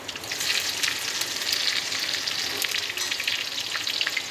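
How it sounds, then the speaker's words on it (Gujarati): Chillies sizzle steadily in hot oil for a tempering with mustard seeds, cinnamon and curry leaves, a dense crackling hiss with sharp pops, close and continuous with no talking. "હવે આ મરચાં વઘાર પડશે"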